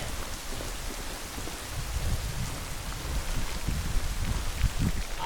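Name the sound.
heavy rain in a mountain tunnel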